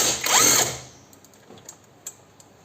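A ratchet loosens the upper bolt on the steering rack of an Audi A4 B5 in a workshop, giving a loud close whirring burst and then a few faint, sparse clicks.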